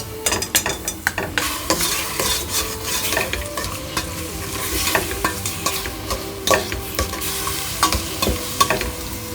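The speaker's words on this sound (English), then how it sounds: "you just want to break the berries up a little bit just to reduce a little bit of that juice" Blackberries being stirred and crushed in a pan over low heat, a steady wet simmering sizzle broken by repeated sharp scrapes and clicks of the spoon against the pan, close and fairly loud, with no talking.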